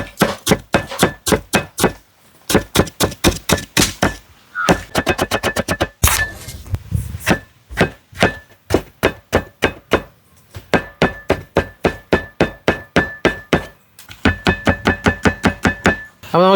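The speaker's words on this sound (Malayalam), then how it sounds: "ഇത് നമുക്ക് പൊടിയായിട്ട് അരിയണം" A knife finely chops ingredients for a squid-stuffing rice filling on a cutting board, with rapid, regular bursts of sharp taps separated by short pauses. The chopping is close and loud, and no one talks over it.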